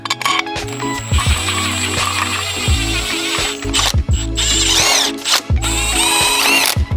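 Bolts being run into Audi S4 engine mounts with a hand ratchet, loud close bursts of rapid clicking that stop and start several times, with no talk.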